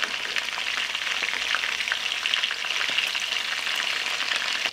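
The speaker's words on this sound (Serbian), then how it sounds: "Ćuftice okrećemo na drugu stranu i nastavljamo da ih pržimo." Ćuftice meatballs fry in a pan with a dense, even sizzle and crackle that runs unbroken throughout, close and alone with no voices.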